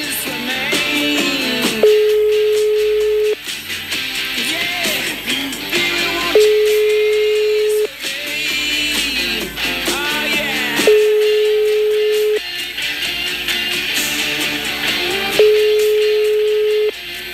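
Telephone ringing tone on a call to the Hotel Tantra in Quito, Ecuador: four long steady tone bursts of about 1.5 seconds each, evenly spaced with pauses between them, heard over music playing in the background.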